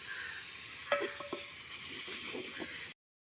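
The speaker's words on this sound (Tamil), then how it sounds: "வெங்காயம் வந்து நல்லா பொன்னிறமாக வதங்கணும் வதக்கு வதக்கு வதக்கு வதக்கு" Onions sauté in a pan over a clay stove for mutton dum biryani. A soft, continuous sizzle carries a few faint clinks and scrapes from stirring, then cuts off abruptly.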